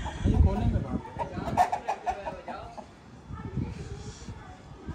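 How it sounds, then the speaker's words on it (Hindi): Chickens clucking and flapping in a plot at a livestock market, heard through busy crowd chatter and shouting, with bird calls rising briefly amid the noise. "ये देखें मुर्गियाँ उड़ गई सारी"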